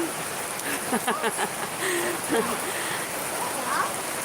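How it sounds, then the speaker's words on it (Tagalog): Heavy rain pours steadily onto surfaces outdoors in a continuous hiss, while a voice and other faint sounds come and go over the downpour. "dire kay na kusog kayo ulan oh"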